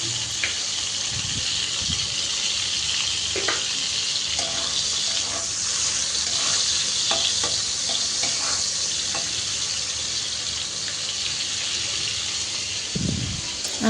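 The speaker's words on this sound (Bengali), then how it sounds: "তো চিংড়ি মাছটা প্রথমে একটু ভেজে নিচ্ছি।" Shrimp frying in a pan at home for lunch, a continuous bright sizzle of hot oil throughout, with a few soft clinks and stirring knocks mixed in, no voices.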